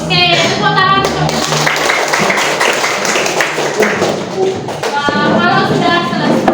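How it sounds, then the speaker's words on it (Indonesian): Classroom applause for a student group, a burst of many hands clapping close by with some thumps and shuffling, and a voice speaking at the start and again as the clapping fades. "Oke, tepuk tangan untuk"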